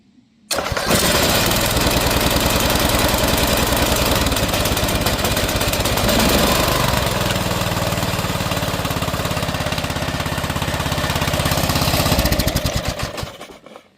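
A repaired walk-behind lawn mower engine starts and runs steadily at a loud, close, even idle for over ten seconds before cutting off, with no voices.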